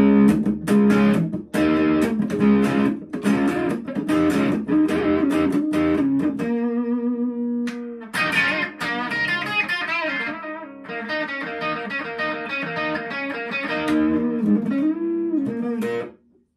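Les Paul electric guitar with the tone knob rolled from 10 to 0, played with a dark, muffled tone, chords and melodic runs ringing out with sustained notes for several seconds, no talking.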